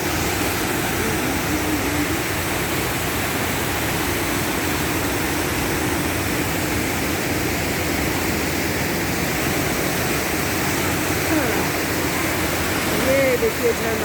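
A roaring waterfall on a mountain road near Lachen, Sikkim, heard close up as a loud, continuous broadband rush of falling water that stays even throughout with no breaks.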